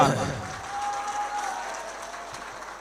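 Audience applause at an All India Mushaira poetry gathering, a sustained crowd clapping that starts strong and fades gradually, heard at a moderate distance with a faint tone running through it.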